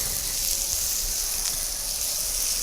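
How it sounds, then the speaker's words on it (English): Vegetables fry in spicy oil for kitchari, giving a steady, even sizzle and crackle with no talk over it. "frying the vegetables in spicy oil"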